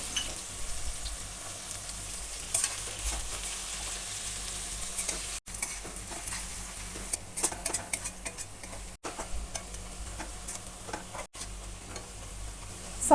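Sliced onions frying in a pan until golden brown for chicken biryani, with a soft continuous sizzle, occasional scrapes and clinks of a spatula stirring against the pot, and brief dropouts between stirs.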